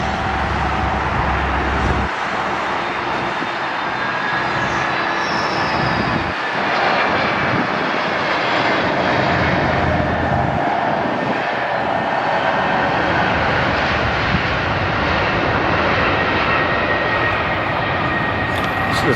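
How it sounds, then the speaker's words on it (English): A Spirit Airlines jet taking off at LAX, its engines roaring steadily and loud, a broad sustained rumble and whine that holds across the whole stretch with no talking. "Let's check out Spirit taking off."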